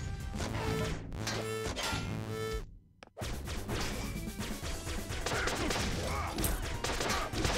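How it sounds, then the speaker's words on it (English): Cannons fire indoors in the video game Flinthook, heard as a string of loud crashing blasts and smashes over game music. A short near-silent gap falls in the middle, then dense, sustained bursts of gunfire follow. "Cannons indoors."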